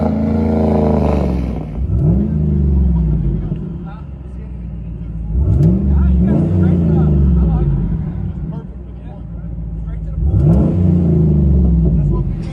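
A GMC Yukon Denali 6.2L V8 with an aftermarket exhaust, heard from inside the cabin, revs three times in strong swelling pulls over a muffled, steady idle rumble.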